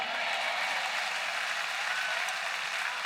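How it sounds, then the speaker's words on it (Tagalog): Congregation clapping in a worship service, a dense steady wash of applause from many hands, even in loudness and close, with no break over a few seconds. "Ba't kayo pumapalakpak?"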